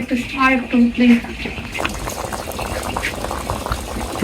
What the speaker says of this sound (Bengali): এখন বলক চলতেছে